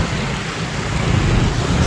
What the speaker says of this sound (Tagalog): At malakas pa yung ulan.